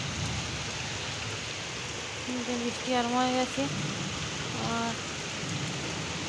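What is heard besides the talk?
light rain falling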